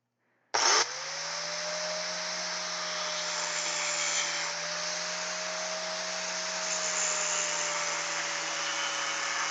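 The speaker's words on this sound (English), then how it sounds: "The grinder is pretty loud on the mic." A grinder in a blacksmith workshop starts abruptly and runs loud and steady at close range, a constant whining drone with a slight wavering pitch.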